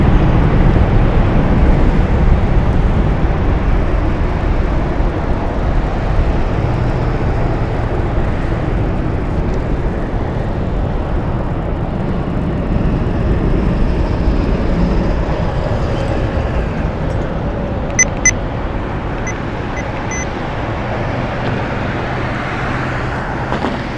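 Steady distant roar of airliners departing and landing at Las Vegas Harry Reid International Airport, blended with continuous nearby road traffic noise, with a brief faint high tone near the end.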